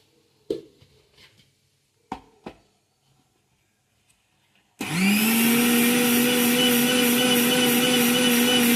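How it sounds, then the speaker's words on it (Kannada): Mixer grinder powdering semolina (rava) for waffles: a few faint clicks and taps as the jar is set, then the motor starts abruptly into a loud, steady high-pitched whirring roar, close with no talk. "ಮಿಕ್ಸಿಗೆ ಒಂದು ಸ್ವಲ್ಪ ಹಾಕ್ಕೊಂಡು ಪುಡಿ ಮಾಡ್ಕೊತೀನಿ"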